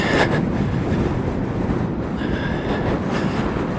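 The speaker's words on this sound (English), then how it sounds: "I don't know if you can hear the wind. but wow, it's strong" Strong wind on the Top of the World Highway roars steadily with a dense, rushing, buffeting noise that fills the whole clip, loud and close, with no talking.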